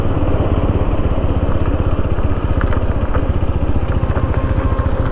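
A motorcycle's engine drones in a steady, close, continuous rumble while riding along a road between Gazole and Malda, its rapid firing pulses holding an even pace with no talk.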